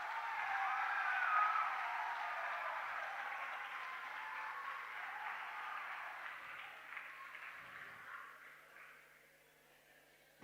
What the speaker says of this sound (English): I didn't see so much claps for your classmates.